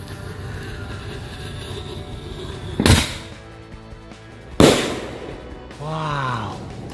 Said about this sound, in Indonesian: Mercon bola launcher.